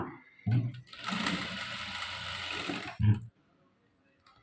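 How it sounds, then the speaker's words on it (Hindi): Sewing machine stitching a fabric sleeve at close range, a steady mechanical whir running for about two seconds between short bursts of handling noise, then stopping. "इस पर हम सिलाई चला देंगे"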